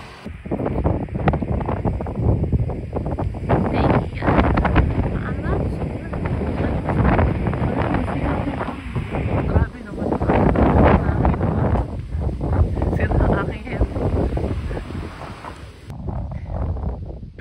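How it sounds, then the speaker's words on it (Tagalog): Strong wind buffets the microphone in continuous loud gusts and rumbles, with a voice speaking intermittently over the roar. "Sobrang lakas ng hangin."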